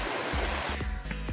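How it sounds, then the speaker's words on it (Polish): A mountain stream, the Żółty Potok flowing down from Żółta Turnia in the High Tatras, rushes in a steady broadband wash close by. Heavier low thumps and shifts come through on and off, with no voices. "Żółty potok."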